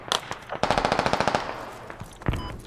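Machine gun tracer fire in Squad, a squad shooter game: a rapid, steady burst of about a dozen close, loud shots, with a sharp crack before it and another single shot afterward.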